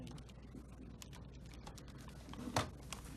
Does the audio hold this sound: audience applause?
no